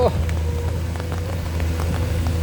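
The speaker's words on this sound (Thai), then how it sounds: "ฝนตกซะด้วย" Steady rain pattering down outdoors at a site where a Sany SY200C and a Komatsu PC210-10MO excavator are digging a pond, a continuous close hiss with a low engine drone underneath.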